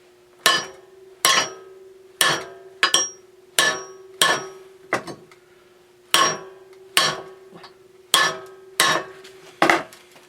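Sharp metal hammer blows ring out at a steady pace as someone straightens the front forks of a 1970 Rupp Scrambler minibike against a small anvil, about a dozen loud close strikes, each with a brief metallic ring and no talk.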